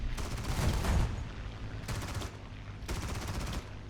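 A Yak-9 fighter's 12.7 mm machine gun fires in a WWII air-combat video game, three rapid sustained bursts of dense, loud rattling fire separated by short gaps, with a continuous engine drone underneath.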